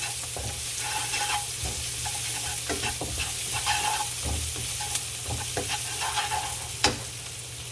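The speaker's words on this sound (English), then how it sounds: "Now I have to cook the onions and the garlic" Onions and garlic sizzle steadily in a pan for a Filipino chicken sotanghon soup, with a constant close frying hiss broken by the scrape and clack of a utensil stirring, and one sharper knock near the end.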